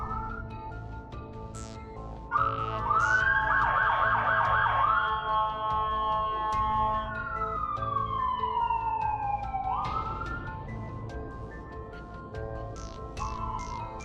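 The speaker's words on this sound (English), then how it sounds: "Eternally punished to hear sirens." Emergency vehicle sirens in the video game Persona 2: Eternal Punishment, a rapid warbling wail that rises and then sweeps down in long slides over a low background hum, with no talk.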